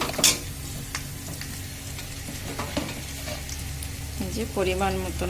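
Ginger and garlic paste sizzles in a pan after onions, with a steady low frying hiss, occasional spoon scrapes and clinks against the pot, and brief soft talk near the end.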